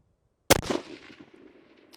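A single sharp F-Class precision rifle shot cracks out loud and close at an outdoor range, then its report rolls away in a long fading echo with wind noise underneath.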